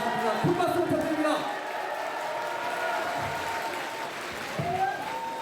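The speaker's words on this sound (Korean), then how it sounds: "여러분 큰 박수와 함성으로 맞아주시기 바랍니다." Audience applause and cheering rise in a hall at a book launch concert as guests are welcomed onto the stage, a steady wash of clapping blended with crowd noise and voices throughout.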